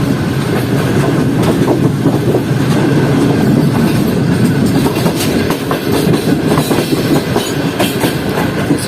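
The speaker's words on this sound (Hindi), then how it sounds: "CNR कोचेस का अलग ही ट्रैक साउंड है।" CNR train coach wheels on the Karakoram Express between Karachi and Lahore roll over the track with continuous rumbling and rhythmic clickety-clack, loud and close throughout.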